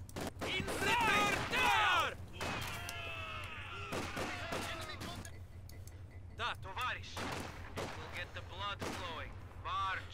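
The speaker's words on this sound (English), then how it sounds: "they're just going to stand in the two windows and slowly shoot at one another" Rapid gunfire crackles back and forth between infantry squads in Company of Heroes 2, bursts of shots mixed with clinks and game effects over a steady low hum, with bursts coming in clusters throughout.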